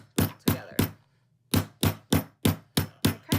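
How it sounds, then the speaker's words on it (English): Metal snaps from a snap-setting kit are hammered together with sharp, close, loud strikes: three quick blows, a brief pause, then six more evenly spaced hits with no talking. "I'll take a hammer, or they even sell a hammer that you can buy that goes with the kit, and I just hammer that together"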